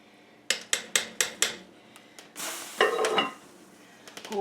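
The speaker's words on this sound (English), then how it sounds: "we're just going to stir them in there" Noodles are stirred into turkey soup in a pot on a woodstove: a run of five evenly spaced clinks of a utensil against the pot, then a longer scraping, sloshing stir and a few faint taps, close and fairly quiet with no talk.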